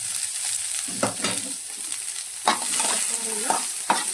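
Oil frying in a pan for kakarakaya (bitter gourd) masala curry, a steady sizzle with several sharp stirring scrapes and clatters scattered through it, close and fairly loud with no talking.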